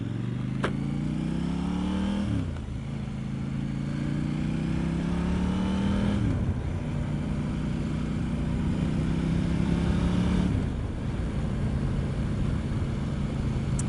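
A KTM 890 Duke R motorcycle rides off on a gravelly road, its loud engine revving up through several gears with rising pitch sweeps and brief shift dips, continuous and close throughout.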